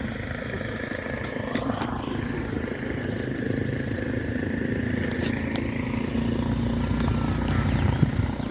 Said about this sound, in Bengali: বিমান যাচ্ছে